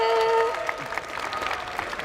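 A crowd at a Dragon Ball FighterZ world tour finals esports event claps and cheers loudly, a dense burst of applause following a fading tone, with no speech over it.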